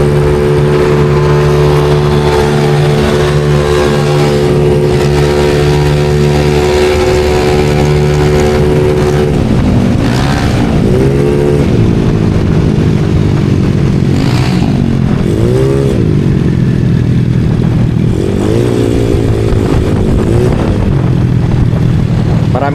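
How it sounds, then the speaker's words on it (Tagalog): A big valve 63 motorcycle engine on a touring ride near Philippine Arena revs loudly and steadily. Its pitch climbs and falls through repeated throttle surges, close and continuous. "medyo pipiga ulit kami sa silinyador namin"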